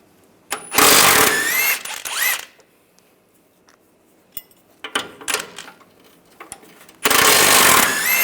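An impact tool with an 18mm socket spins nuts off a differential bracket bolt on a 2007-2013 Chevrolet Silverado, two loud whirring bursts, then a quieter stretch of tapping and clinks, then a final loud burst.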